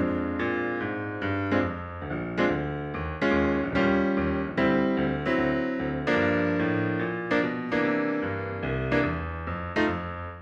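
Blues piano chords with suspended fourths resolving down to thirds ring out in a slow, sustained sequence of struck voicings, moderately loud and alone with no talking.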